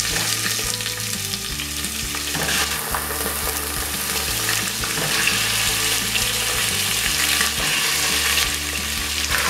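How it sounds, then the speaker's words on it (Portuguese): Meat frying in hot oil inside a pressure cooker, a loud, steady sizzle that runs the whole time with no talking over it. "Já está quente, nós vamos estar colocando a nossa carne para fritar."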